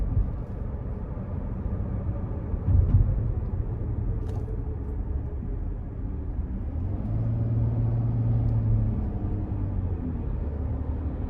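Interior road noise inside a 2020 Dodge Grand Caravan SE Plus minivan on the move, a steady low rumble and tyre hum that swells slightly at times, with no talking.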